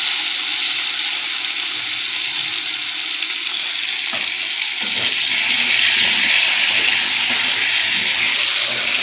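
Potatoes frying in oil in a pan, a loud continuous sizzle that swells slightly louder midway, with occasional stirring scrapes and no voices.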